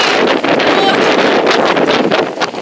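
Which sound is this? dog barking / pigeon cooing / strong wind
strong wind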